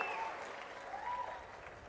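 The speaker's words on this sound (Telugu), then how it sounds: "గట్టిగా చప్పట్లు కొట్టి కలెక్టర్ని," A crowd applauds the district collector and administration at an event with Chief Minister Chandrababu, a short burst of clapping with a few whistling tones mixed in.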